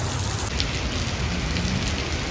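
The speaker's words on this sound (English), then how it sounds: "So more rain coming down." A desert rainstorm with heavy rain pouring steadily onto surfaces, a dense, loud, continuous hiss with no voices.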